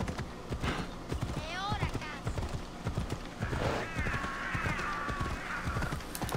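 A horse gallops in Assassin's Creed Odyssey, rapid hooves clip-clopping steadily throughout, with a whinny and loud neighing in the second half while a voice speaks briefly near the start.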